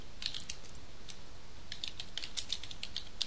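Keys tapped on a computer keyboard while a project title is entered in software, a quiet run of short clicks in two bursts with a pause between.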